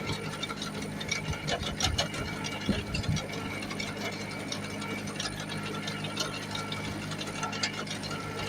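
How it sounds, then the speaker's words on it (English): Hay tedder teeth tearing apart and flipping rows of cut hay in a 7-acre field, a steady mechanical clatter and ratcheting rattle with a low engine drone underneath, running continuously with no talk. "It allows the teeth on the tedder to really tear that row apart and get it flipped back there."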